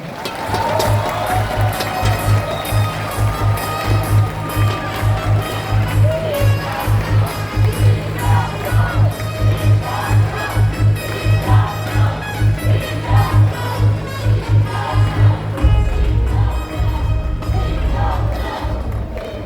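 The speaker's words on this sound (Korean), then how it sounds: "뜨거운 박수로 맞아주시기 바랍니다" A large crowd at a Democratic Party primary rally in a Gwangju convention center cheers and claps for a candidate, a loud continuous roar with rhythmic pulses of chanting or clapping over booming music.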